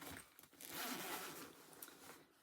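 A zipper rasps along a winter coat in a couple of quick pulls, close and moderately loud, with fabric rustling around it.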